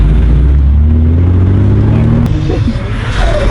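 Toyota MR2 with a new exhaust pulling hard nearby, a loud continuous engine roar with rising rev tones and deep rumble throughout, no talk over it.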